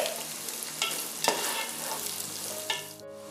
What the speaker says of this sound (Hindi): अब इसमें गाजरें डाल देंगे और इसे सौटे कर लेंगे।